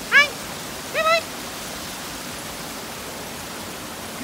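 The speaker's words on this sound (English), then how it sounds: "then there is this huge waterfall." A huge waterfall roars as a steady, broad wash of noise throughout, with two short voice bursts near the start.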